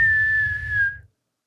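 A voice imitates a whistling firework: one steady, slightly falling whistle tone held for about a second over a low rumble, then cutting off into silence.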